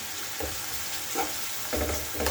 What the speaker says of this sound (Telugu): బాగా ఫ్రై చేసుకోవాలి అలా వేయించుకుని